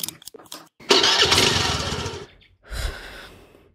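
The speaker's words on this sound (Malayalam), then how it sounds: "മമ്മിയുടെ ഈ പേട്ട സ്കൂട്ടർ എന്നും കേടാ" A faulty, worn-out scooter engine is cranked and sputters into a brief run, cutting out and then catching again for a shorter burst, loud and close with no talk.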